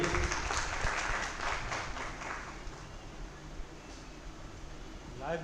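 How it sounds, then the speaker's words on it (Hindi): An audience at a university Ambedkar Jayanti ceremony claps in a dense, steady burst that gradually fades, with a voice speaking over it in a hall. "कृपया, और ताली भी बजाएंगे"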